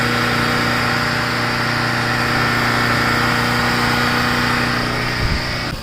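A car engine held steady at about 2000 RPM during a Sea Foam throttle body and exhaust cleaning, a loud continuous hum with even tones that stays constant and ends in a short rattle.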